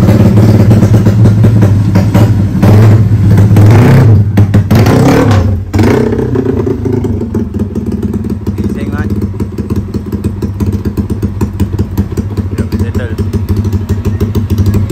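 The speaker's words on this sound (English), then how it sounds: "So bagi pit running atas dyno lah." Yamaha Y15 motorcycle revving on a dyno on a rental exhaust, a loud engine climbing through sharp revs early, then settling into a steady throttled drone close by, with voices talking over it.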